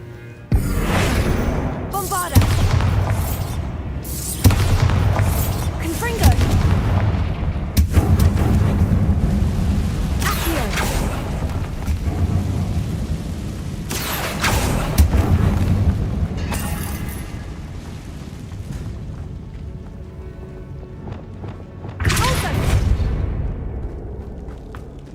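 Bombarda spell blasts in the video game Hogwarts Legacy burst out as several loud booming explosions, spread across the stretch, with rumbling decay between them and a voice speaking at times.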